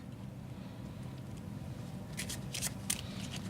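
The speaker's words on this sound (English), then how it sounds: "Now shuffle your deck, and Criss, you shuffle your deck." A deck of playing cards is shuffled near the end as a quick run of crisp riffling flutters and snaps over a low room hum.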